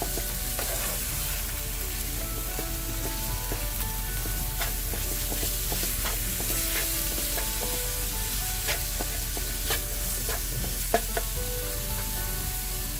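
Ground chicken with salt sizzles loudly in a hot pan while a utensil stirs and breaks it apart, continuous frying crackle with scraping and tapping, no voices.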